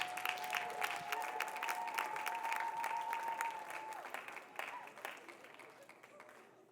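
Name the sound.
audience applause after a church presentation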